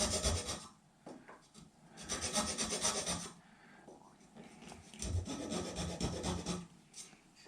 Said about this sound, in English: I needed to file inside a saddle slot on an acoustic guitar